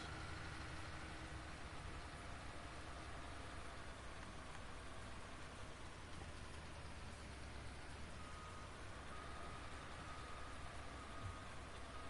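Steady rain from Farming Simulator 19 falls on a farm, a dense, continuous hiss heard close and unbroken throughout, with a low engine rumble running beneath it.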